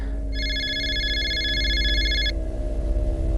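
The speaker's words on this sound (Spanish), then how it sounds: "Sonó el teléfono." A telephone rings with a steady electronic trill for about two seconds over a low, continuous ambient drone, at moderate loudness.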